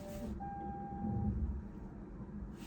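A Lexus RZ 450e sounds a thin, steady reversing beep while self-parking, a faint tone over a low vehicle hum in a quiet cabin.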